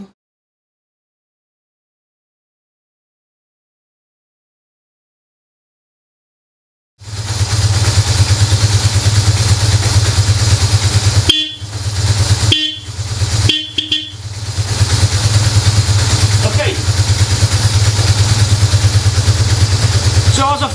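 After several seconds of silence, a BMW motorcycle engine starts and runs steadily with a low rumbling idle, briefly interrupted by a few short dropouts.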